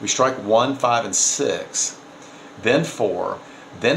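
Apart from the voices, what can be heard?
No everyday noise stands out behind the speech.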